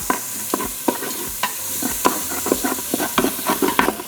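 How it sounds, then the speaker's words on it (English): Onion and garlic cloves sizzle in leftover oil in a pot while a utensil scrapes and stirs the bottom in repeated rhythmic strokes, close and fairly loud. "now using the leftover oil, we're going to saute our onion along with our garlic cloves"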